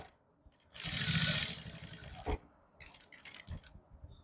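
A sewing machine stitches a neckline in one quick run of close mechanical whirring lasting under two seconds, followed by a few soft knocks and handling sounds.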